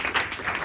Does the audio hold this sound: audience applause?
yes